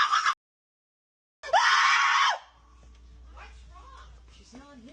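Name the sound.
woman screaming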